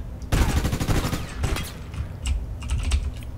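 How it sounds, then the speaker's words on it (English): Rapid pistol fire in the online shooter APB Reloaded, a dense rattling burst of closely spaced shots up front, then scattered sharper pops under a steady game background. "He's just using that pistol."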